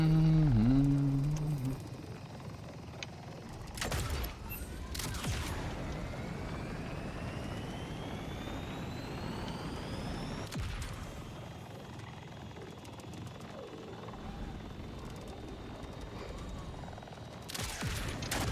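Gunfire with ordinary bullets in the shooter game Borderlands 4, with several loud sharp shots and bursts over a continuous rumbling game background and a brief voice at the start.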